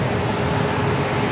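At San Diego airport, a jet airliner rolls for takeoff on runway 27, giving a loud, steady broadband engine roar that fills the short stretch without a break and has no voices.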